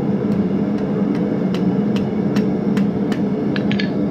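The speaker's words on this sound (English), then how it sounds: "hammering one spot and just tapping down" A blacksmith taps a forged finial on an anvil with a hammer, about nine light, evenly spaced metallic strikes over a steady low hum of shop noise, closer together toward the end.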